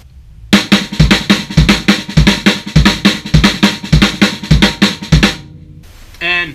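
A drum kit plays a fast RLRLLK lick with accents: rapid, loud hand strokes and kick hits repeat steadily for about five seconds and then stop, followed by a brief faint sound.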